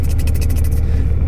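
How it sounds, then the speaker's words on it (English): Porsche 911R idling with its fuel injectors and injector pump ticking, a rapid mechanical rattle over a steady low engine rumble, close and loud, with no talking. "That's actually the injectors and the injector pump rattling."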